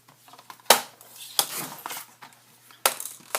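A paper strip being cut down for a handmade card, a few sharp crisp cuts or chops spaced apart, close and fairly loud with quieter rustling between.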